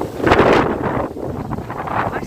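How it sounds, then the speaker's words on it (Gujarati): Strong gusting wind sweeping through trees at a dragon fruit farm in Kutch, a loud rushing roar with buffeting against the microphone that surges early and then keeps blowing unsteadily. "એટલો બધો ફૂલ પવન જો એરો કેવો ઝાડ ઓમથી ઓમ ડોલે."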